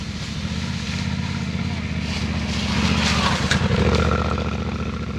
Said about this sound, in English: I have to manage to get this bike out without any drama